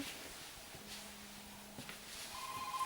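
A mobile phone rings indoors, a faint electronic tone that repeats in short bursts, with light rustling and handling noise around it.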